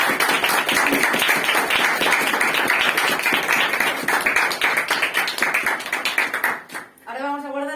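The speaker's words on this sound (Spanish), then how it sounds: "Un aplauso muy grande." An audience at a book presentation in a bookshop claps, a dense stretch of many hands with some sharp individual claps close by, fading out near the end as a voice begins speaking.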